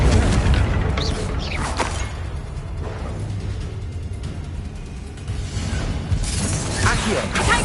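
A Confringo spell blast booms in a Hogwarts video game, a heavy rumbling explosion with crashing debris and layered game effects that stay loud throughout, with a spoken voice mixed in.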